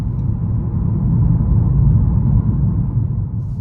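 Low, steady road rumble of sticky Michelin tires heard from inside the cabin of a 2021 Mercedes-AMG CLA 35 while driving, a continuous dull drone with no talk.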